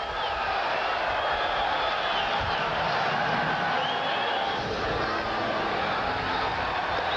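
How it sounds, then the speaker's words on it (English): Dense, steady stadium crowd roar with mixed cheering and jeers at a Houston Texans at Cleveland Browns football game while injured quarterback Tim Couch lies on the field, a continuous wash of distant voices. "Listen to the cheering as he's being attended to."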